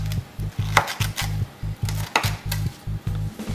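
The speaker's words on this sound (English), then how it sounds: "take a sharp knife or a pizza cutter, take about 4 or 5 in a stack and just cut them until you get your desired shape" A sharp knife chops through a stack of four or five tortillas into wedges, making a steady run of firm thuds on a board, close and clear with no talking.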